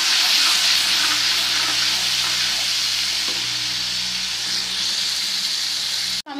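Garlic ginger paste with mustard seeds and fenugreek sizzling and frying steadily in hot ghee, a dense continuous crackle with occasional stirring, close and loud throughout, ending abruptly.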